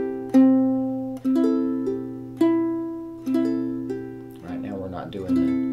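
A ukulele played clawhammer style on open strings runs through one measure, with five or six bright plucked notes and brushed strums ringing out clearly and closely, no voice over them.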